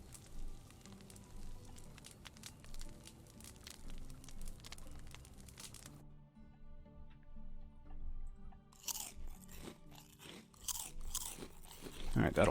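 Eating food in the Medieval Dynasty video game produces repeated crunchy chewing and biting bursts with ambient game sounds, then a brief quiet gap before sharper crunches return near the end.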